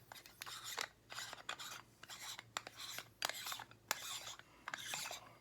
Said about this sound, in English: I unscrew this part here.